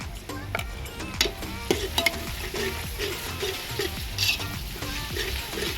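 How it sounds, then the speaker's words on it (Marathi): Ginger-garlic paste fries in a pan over an outdoor wood-fired clay stove on a windy day, sizzling steadily while a utensil scrapes and stirs in repeated bursts, with occasional sharp clinks of metal. "आता मम्मा टाकते आलं लसणाची पेस्ट"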